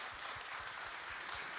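A church congregation applauds during a joint Sunday service to welcome newcomers, a dense steady wash of many hands clapping at moderate distance, fairly quiet.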